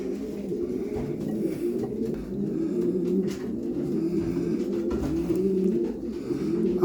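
A four-year-old racing pigeon hen coos in low, continuous throaty murmurs, close and steady throughout with no talk.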